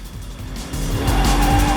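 A Porsche Cayman S races in Need for Speed Most Wanted, its engine roaring loudly and building as the tires squeal through a skid, close and steady with no talk.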